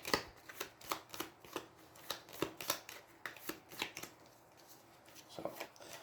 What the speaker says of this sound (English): So, the magic shuffle, we will see.